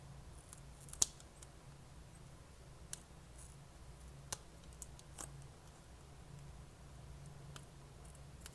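Scissors snip sparse, sharp cuts while trimming small pieces for a handmade amigurumi doll, with faint clicks between them, no talking and quiet background.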